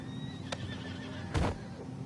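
A horse in Red Dead Redemption 2 gives a single loud, close whinny partway through, rising over a steady low game ambience with a few faint background tones.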